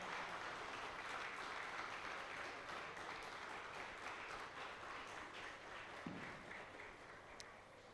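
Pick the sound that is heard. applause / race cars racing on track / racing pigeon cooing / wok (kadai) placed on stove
applause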